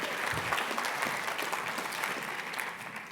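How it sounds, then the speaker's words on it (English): Applause from the audience at the RedState Gathering as Georgia's Secretary of State Brian Kemp is introduced, a dense, even wash of clapping that holds steady and starts to ease off near the end. "So everybody give a big round of applause"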